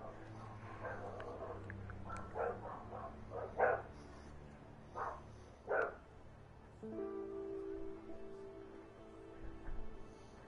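A dog barks in the video game A Way Out, a few short barks and yips of moderate loudness in the first half, with game sounds continuing after.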